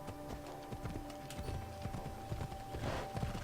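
Horse hooves clip-clop in Assassin's Creed Odyssey, a quick rhythmic trot of hoofbeats under steady in-game ambience, moderately close and fairly quiet.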